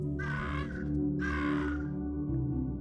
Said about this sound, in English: Just have to wait for the crows to get out of the way.